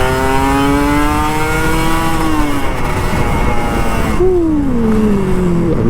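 A Kawasaki Ninja RR 150 two-stroke motorcycle accelerates hard. A high, revving engine note climbs steadily, then drops briefly as the rider shifts and climbs again, loud and close throughout.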